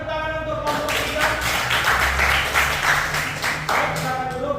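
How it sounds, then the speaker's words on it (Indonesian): A classroom audience applauds a student group at an Indonesian school, a dense, steady clapping that keeps going loud and close for several seconds. "Silakan berikan tepuk tangan untuk kelompok ketiga."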